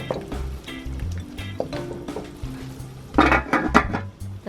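Pancit being stirred in a pan with a little water, giving repeated clinks and scrapes of a utensil against the metal pan, with a louder, busier burst of clatter near the end.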